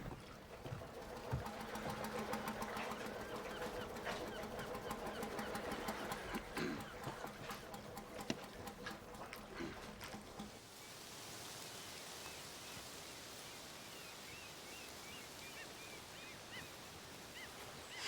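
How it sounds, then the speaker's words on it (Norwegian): A boat engine drones steadily at mid distance, its low rumble slowly coming nearer over an outdoor background, then dropping off into a softer, hissing wash. "båten kommer."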